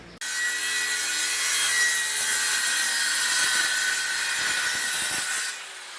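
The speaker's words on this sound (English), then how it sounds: "Now just cutting the laths along a straight edge that is clamped to the bench" Steady, continuous sawing of wooden laths guided along a straight edge clamped to a workbench, a close, loud rasping stroke sound lasting several seconds without talk, ending abruptly.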